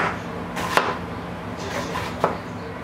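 A knife slicing onion into very thin slices for ceviche, two sharp, close chops against a cutting board about a second and a half apart, separated by softer scraping.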